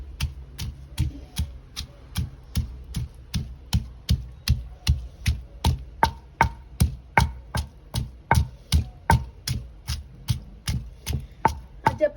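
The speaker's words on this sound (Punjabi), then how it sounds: "ਬਰੀਕ ਕਰ ਲੈਣੇ ਚੰਗੀ ਤਰ੍ਹਾਂ" A knife chops vegetables finely for kadhi pakora, striking a board in a steady, evenly spaced series of sharp, close knocks, about two to three per second, with no talking.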